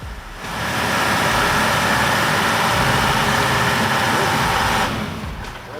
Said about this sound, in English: The truck is like a wild beast, straining to conquer the thick, gooey mud, each wheel spinning in desperation.